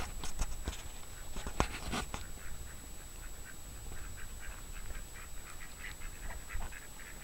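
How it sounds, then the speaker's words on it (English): Ducks quack in short, repeated calls on a garden pond in an English cottage garden on an autumn morning, heard nearby and steady against soft outdoor ambience. "There's some of the ducks having their morning swim"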